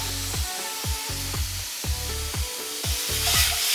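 Carrots go into a mushroom stir fry in a pan, with rhythmic spatula scrapes repeating about twice a second over a low, steady sizzle.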